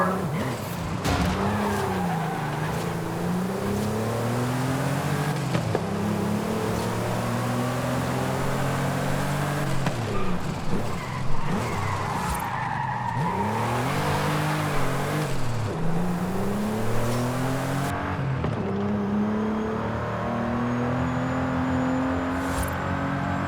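A race car in the video game Forza Horizon 5 revs and accelerates through repeated gear changes on an open road race, engine pitch sweeping up and down with occasional tire squeals, loud and continuous.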